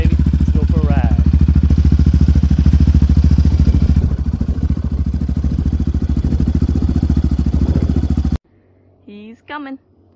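A custom Yamaha Raptor 350/700 ATV engine runs loud and close with a steady, throbbing low rumble for about eight seconds, then cuts out; a voice speaks over it briefly and again after it stops.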